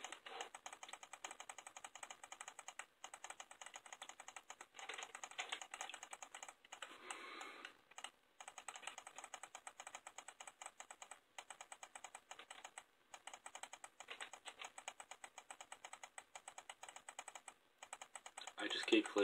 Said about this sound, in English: I just keep clicking, and I know you guys can probably hear it